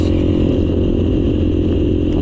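A motorcycle heavily loaded with its rider, luggage and extra fuel, its engine droning steadily and close with a low, labouring rumble that holds level throughout, with no voices.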